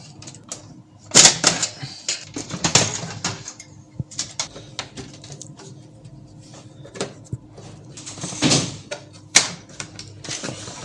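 Plastic clicks and snaps in irregular bursts as the lock latch on an HP LaserJet printer is worked open, with rattling and handling noises between the louder clacks.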